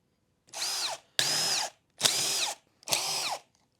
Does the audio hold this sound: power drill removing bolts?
yes